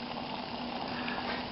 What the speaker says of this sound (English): It started boiling, I'm sorry.